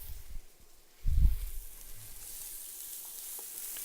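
Butter hits a hot pan with rendered bacon fat and starts frying, giving a soft thump and then a steady, quiet hiss of sizzling.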